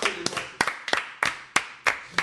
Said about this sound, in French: propose qu'on l'applaudisse